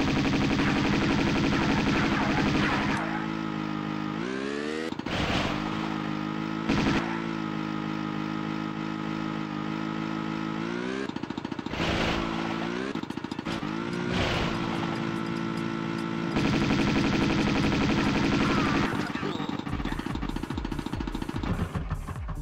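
Jaunty background music from the skidoo section of the video game Tomb Raider II, playing loud and continuous with shifting melodic phrases, mixed with repeated gunfire-like bursts and engine noise from the armed snowmobile.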